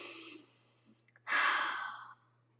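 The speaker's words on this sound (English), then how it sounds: "take a nice deep breath, then a great long exhale" A single person takes a soft breath in, then lets out a louder, long, airy exhale lasting nearly a second in a quiet room.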